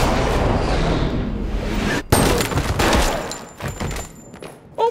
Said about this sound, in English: I'm just gonna shoot him in the leg.